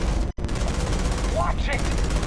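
Gunfire in the Starfield video game: a dense, continuous stretch of rapid shots fills the clip, broken by one brief gap near the start, with game voices and effects layered over it.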